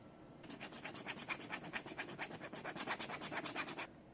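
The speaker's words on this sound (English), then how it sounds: "file that to where you get rid of that crack completely before you get started again" A metal file rasps across a coin ring to remove a crack, in a quick, even run of close, crisp strokes that starts and stops abruptly, with no talk.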